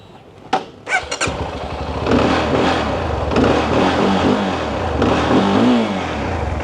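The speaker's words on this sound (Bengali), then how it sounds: "সিএফ মোটো থ্রি হান্ড্রেড এসআর এই বাইকটার সাউন্ডটা আপনাদেরকে এখন একটু শোনাই" A CFMOTO 300SR, a 300 cc motorcycle, starts with a few sharp mechanical clicks, then its engine settles into a steady, moderately loud running note with slight revs rising and falling.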